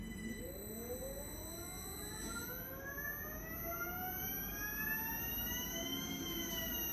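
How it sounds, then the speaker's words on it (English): An electric motor slowly spins up, its whine rising gradually in pitch through several layered tones over seven seconds, moderately faint with a steady background hum. "We slowly accelerate the motor."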